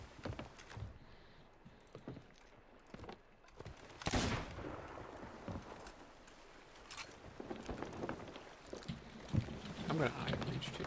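Ship cannons firing cannonballs in Sea of Thieves, a heavy boom followed by scattered distant blasts over lapping water and creaking boat ambience.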